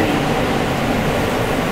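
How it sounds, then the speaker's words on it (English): A steady, loud rumble of an underground MTA E subway train running toward World Trade Center, with a continuous roar and no voices. "This is a World Trade Center bound E train."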